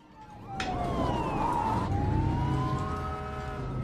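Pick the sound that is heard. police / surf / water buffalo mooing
police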